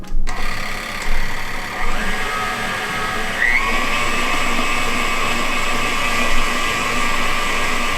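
An electric mixer whirs steadily through carrot cake batter with sugar and a cup of oil, a continuous motor drone after a few brief bumps at the start, close and fairly loud with no talking.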